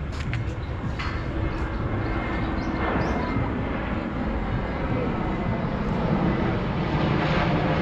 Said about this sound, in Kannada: ಮತ್ತೆ ಫ್ಲೈಟ್ ಬಂತ.